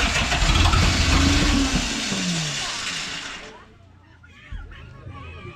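A Mazda RF engine is cranked and started, running loud and rough with a rising and falling tone before cutting back to a quieter idle, close to the listener, with people talking around it.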